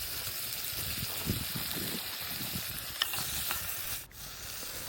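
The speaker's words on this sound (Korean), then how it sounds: "팬에 기름을 1큰술 정도 두른 후 등갈비를 넣고 볶다가" Pork back ribs sizzle and crackle in a lightly oiled pan while being stir-fried, with a steady frying hiss, scattered low scraping knocks and a brief louder burst near the end.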